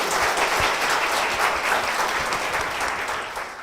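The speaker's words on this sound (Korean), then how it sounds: "여러분 박수로 맞아주십시오." A church audience gives a young guest a welcoming round of applause, dense clapping from many hands that swells evenly and then tapers slightly toward the end.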